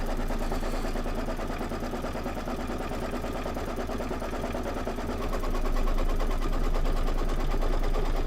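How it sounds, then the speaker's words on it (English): Embroidery sewing machine stitching out a tack down stitch, a fast steady mechanical rattle running continuously and close, growing slightly louder toward the end, with no talk. "Here's my tack down stitch."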